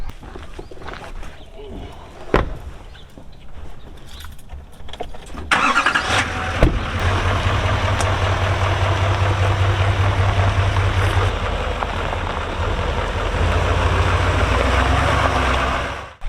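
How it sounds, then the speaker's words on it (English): A pickup truck starts up and drives across a farm road, its engine settling into a loud, steady running drone up close after a stretch of quieter handling noises and a sharp knock. "So we're jumping in the truck, heading across the road."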